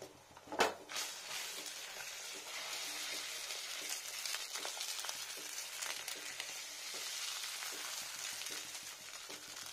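An egg fries in a frying pan, giving a steady, close sizzle and crackle throughout, opened by a sharp knock or scrape of the pan near the start.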